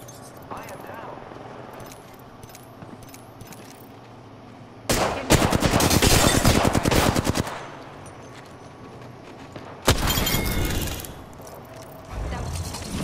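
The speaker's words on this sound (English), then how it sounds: "The enemies are shooting at me." Bursts of automatic gunfire from enemies in the battle-royale shooter Apex Legends, a long loud rapid volley followed by a second shorter burst, close and harsh over a steady game background.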